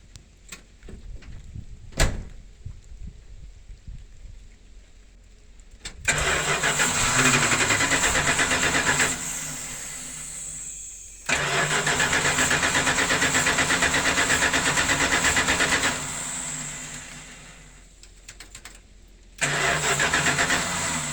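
A Dodge motorhome 360 engine with a newly installed timing chain and an unconnected fuel pump cranks and fires three times, each start running loudly for a few seconds before dying, with clicks in between.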